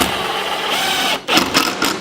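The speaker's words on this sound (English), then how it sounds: "we're going to go ahead and set our screws" A power driver sets screws to fix a plumbed door jamb, its motor whirring steadily and loudly up close, then cutting out and giving way to several short bursts of driving.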